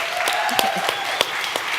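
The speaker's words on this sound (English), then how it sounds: "Can we give a round of applause for that?" Applause from an audience, a dense patter of clapping hands with a few sharper claps standing out, steady throughout.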